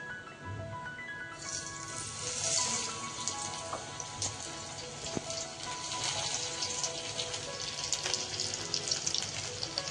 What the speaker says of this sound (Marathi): आता आपण डायरेक्ट याला तेलामध्ये सोडूयात.